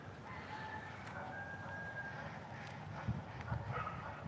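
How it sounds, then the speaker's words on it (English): A rooster crows faintly in the distance over a low outdoor background, with a few soft thumps near the end. "Somebody stop the rooster."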